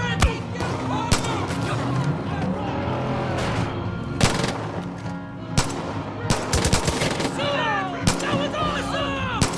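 Gunfire in the video game Far Cry 5 crackles in sharp single shots and rapid bursts, loud and close, scattered across the scene over a running mix of game voices and other sounds.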